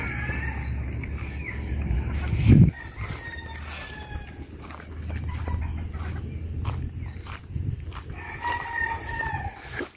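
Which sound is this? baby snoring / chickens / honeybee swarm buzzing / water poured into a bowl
chickens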